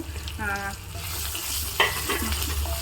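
Potatoes, boiled and cut, frying in oil with curry leaves until crisp: a continuous close sizzle with a few spatula scrapes and light clinks.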